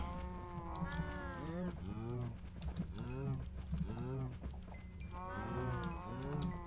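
Cows in a block-building video game moo repeatedly while being bred, several drawn-out calls spread across the stretch under a player's ongoing chatter.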